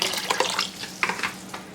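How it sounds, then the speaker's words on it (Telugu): Water splashes in short, uneven bursts as it is poured into a container of soaked rice for vegetable biryani, close and fairly clear. "దీనిలోకి కొద్దిగా నీళ్ళు పోసుకోవాలి"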